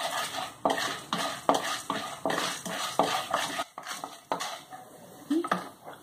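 Black gram fries in a pan for a mixed vegetable chutney, with rhythmic spatula scrapes and clinks against the metal about every half second over a light sizzle.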